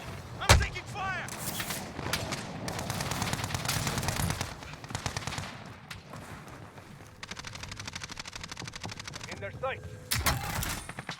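Dense video-game gunfire and automated sentry gun bursts fill the round, with sharp shots, rapid machine-gun rattles and thuds running continuously under radio-style game voice callouts.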